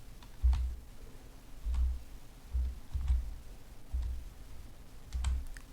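Keys are pressed one at a time on the keyboard of a homebuilt computer without a microprocessor, giving about six soft, separate clicks with thuds at irregular intervals, close and quiet.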